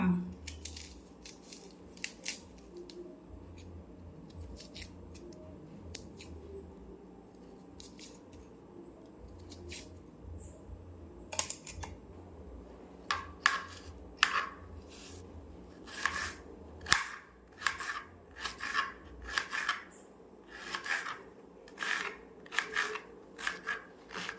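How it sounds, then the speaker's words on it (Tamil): A knife chops onions on a cutting board in a home kitchen, with soft taps at first and then quicker, crisper rhythmic cuts close by. Faint talking can be heard in the background. "3 வெங்காயம் நான் உரிச்சிட்டு கட் பண்ணுறதுக்கு எப்படியும் 15 மினிட்ஸ் ஆகும். ஸோ நான் அரிஞ்சிக்கிறேன்."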